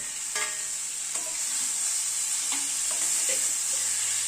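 Small mourala fish dropped into spiced masala frying in a pan, giving a steady bright sizzle throughout with a few soft stirring knocks against the pan.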